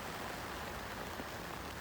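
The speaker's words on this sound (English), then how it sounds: "Look at this rain and wind" Heavy rain and wind hammer down during a night carp fishing session, a dense continuous hiss and patter that stays steady and loud throughout, with no voices.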